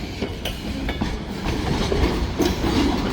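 A vintage freight train rolls past close by, a steady broadband rumble with clickety-clack wheel beats and occasional sharp clanks, growing slightly louder toward the end.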